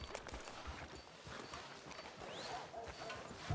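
Horse hooves clip-clop at a walking pace in the Red Dead Redemption 2 video game, faint and steady, with a thump at the very end.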